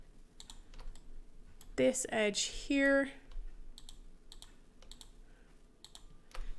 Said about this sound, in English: I'm just going to go press 2 on my keyboard